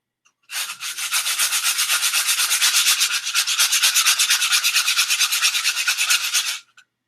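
Wooden wands being hand-sanded: steady rapid back-and-forth rasping strokes, close and even, running continuously for several seconds with no voices.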